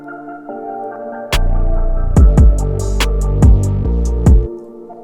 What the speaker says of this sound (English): just let one note from our 808 or sub, whatever we have, so it will sound like this